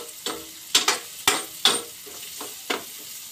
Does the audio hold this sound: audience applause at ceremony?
no